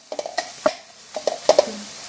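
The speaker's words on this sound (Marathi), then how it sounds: "थोडीशी हळद परतून घेऊया थोडं तेलामध्ये." Turmeric sizzles in a little hot oil in a pan while it is stirred, giving short close bursts of crackle and several scraping stirs with no talk.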